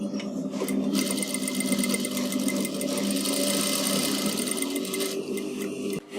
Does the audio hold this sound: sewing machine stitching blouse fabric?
yes